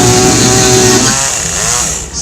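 A chainsaw running with its chain spinning during a juggling act, a loud close buzzing engine drone that holds steady, dips, then rises again briefly.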